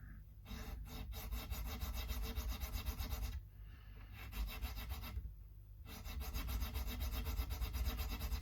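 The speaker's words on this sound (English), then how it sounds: "So we go in with the jeweler file." A jeweler file rasps steadily across the bridge saddle of a Squier MIK Stratocaster, close and quiet, in long even strokes broken by two short pauses.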